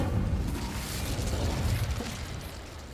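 The Incendio fire spell in Hogwarts Legacy erupts as a dense, roaring whoosh of flame that holds steady for a few seconds before easing off, with no talking over it.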